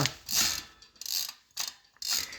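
DT Swiss ratchet bicycle hub freewheel buzzing in four short bursts of rapid, sharp clicking, fairly close and quiet, separated by brief silences.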